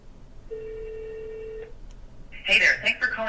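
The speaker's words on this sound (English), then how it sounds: "So let's give this a call." A telephone rings once as a test call goes out to an AI voice agent, a steady electronic ring tone lasting about a second, followed by a short burst of a voice answering on the line.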